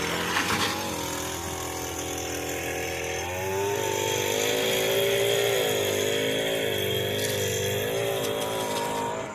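An Echo SRM 225 string trimmer edging a lawn, its two-stroke engine running steadily close by, rising slightly in pitch partway through and holding a buzzing whine.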